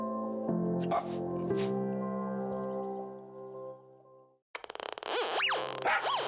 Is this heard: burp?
no